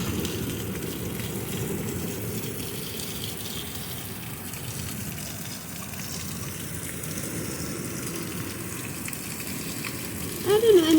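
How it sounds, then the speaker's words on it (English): Heavy rain pours steadily during a storm with hail in Tulsa, Oklahoma, a dense continuous rushing wash that stays loud and even throughout, with a brief knock near the end. "It's pretty heavy rain and storm."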